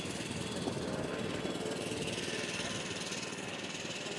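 A quarter-scale radio-controlled Nieuport 28 C1 World War I model plane with an 80-inch wingspan and a Sato 180 engine flies overhead at a scale event, its steady engine drone broadband and continuous, moderately distant, with a faint voice underneath.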